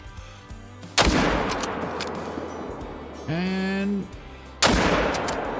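Two loud rifle shots fired at a buck while hunting in Call of the Wild, each a sharp crack with a rolling echo, the first near the start and the second near the end, with brief talk in between.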